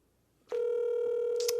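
A telephone call is placed: brief silence, a click, then a loud, steady dial or ringing tone that holds to the end, with a couple of quick keypad beeps near the close and no talk.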